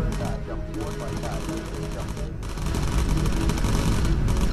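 Bomber guns in the video game Bomber Crew fire at a V2 rocket in a dense, continuous rattle of rapid gunfire that stays loud throughout and swells slightly near the end.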